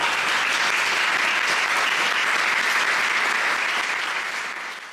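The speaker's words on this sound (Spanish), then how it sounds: "Recibamos con un fuerte aplauso a" An audience at a business conference on succession and inheritance breaks into sustained, dense applause to welcome a speaker to the stage, a steady wash of clapping that holds throughout and begins to fade near the end.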